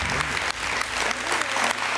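Theatre audience at a stage hypnosis show breaking into loud, dense applause that holds steady throughout, with no voices over it.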